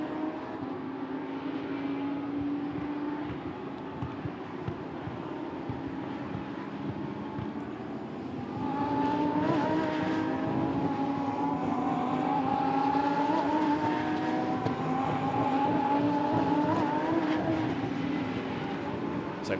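A Lamborghini Super Trofeo race car powers up a hill out of a corner at the Nürburgring, its engine heard at a distance as a moderate, rising whine that grows slightly louder midway and carries steadily to the end.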